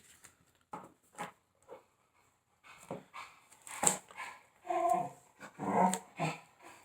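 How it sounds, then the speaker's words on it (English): A dog barks and whines in short, irregular bursts, close by, with some low growly yelps between quieter pauses. "See if you hear my dog."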